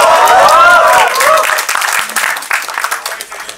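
An audience claps together at a talk event, a burst of close, dense applause that tapers off over a few seconds, with a voice heard near the start.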